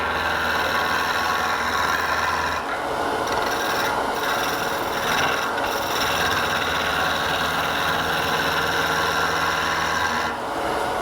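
A top blank spinning on a wood lathe is shaped into a cylinder with a skew chisel, giving a continuous raspy cutting sound over the motor's hum, broken by short pauses as the tool lifts off.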